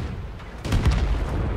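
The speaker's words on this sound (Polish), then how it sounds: "Następny strzał." Tank cannon firing in World of Tanks, a single heavy low boom landing about two thirds of a second in, loud and close, then a rumbling tail of battle noise with no speech.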